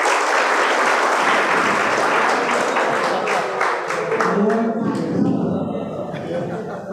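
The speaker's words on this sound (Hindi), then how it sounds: "जोरदार तालियां बजानी चाहिए।" Loud, sustained applause from an audience gathered at the Dongri children's remand home in Mumbai, with thick overlapping hand claps that thin and soften near the end, mixed with some voices and light chuckling.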